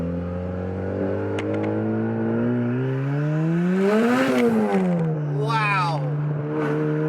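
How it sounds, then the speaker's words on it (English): A turbocharged Toyota Celica GT-S revs hard as it accelerates, its engine pitch climbing to a loud peak before falling back, with a short squealing burst of wheel spin near the end. "That was wheel spin."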